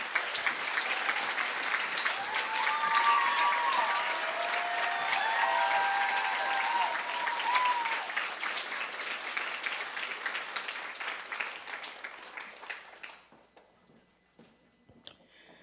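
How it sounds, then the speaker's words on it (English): An audience at a July 4th Funfest ambassador coronation gives a long, steady round of applause, dense clapping that carries on strongly before thinning out and fading to near silence at the end. "please join me in one more round of applause for the final time"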